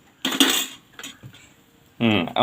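A spoon stirs curry seasoned with curry leaves and salt in a metal pot, giving a few sharp clinks and scrapes in short bursts, then a louder clatter near the end.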